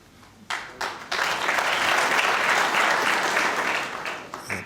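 A snooker crowd at the Crucible Theatre applauds during the 2014 World Championship final, sustained clapping swelling after a few opening claps and holding steady and loud before tapering off.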